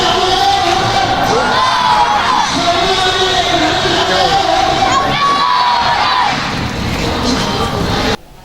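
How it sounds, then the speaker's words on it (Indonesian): A large crowd at an Islamic boarding school welcome ceremony shouts takbir in loud, continuous cheering. Many excited voices overlap and hold steady for several seconds, then cut off abruptly. "rombongan disambut dengan teriakan takbir yang menyemarakan kedatangan mudir Pondok Pesantren"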